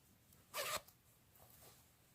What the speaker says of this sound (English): That quick and easy to put in a zipper.